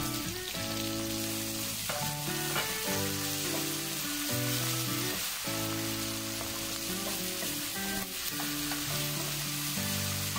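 Tomato sizzles and fries in a hot pan for beef mechado, a steady crackling sizzle running throughout, close and continuous, with no talking.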